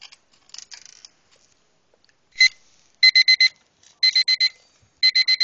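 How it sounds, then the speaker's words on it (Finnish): An alarm clock rings in repeated bursts of rapid electronic beeps, groups of about four pulses separated by short pauses, loud and close after a few faint rustles at the start. "nyt herätään niinku 5 aikaa, kun herätyskello soi"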